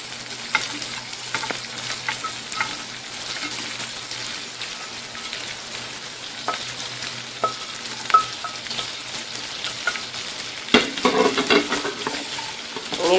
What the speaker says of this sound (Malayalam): വറുത്ത് കോരിയെടുത്ത ഇറച്ചി ഇതിലേക്ക് ഇട്ട് കൊടുക്കാം.